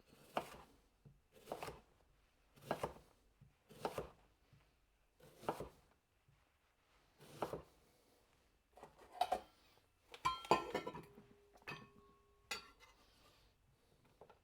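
A knife chops through a large lobed vegetable cut like a big shallot on a board, giving a steady series of about ten crisp, close strikes spaced roughly a second apart, with a brief clatter near the end.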